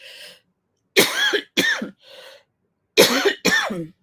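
Several sharp coughs in two clusters, close and fairly loud, with brief quiet gaps between them and no talking.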